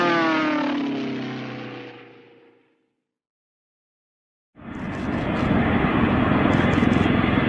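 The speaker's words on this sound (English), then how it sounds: "This plane leaves messages." Airplane engine noise fades away into silence, then a loud, steady aircraft roar starts abruptly and continues to the end.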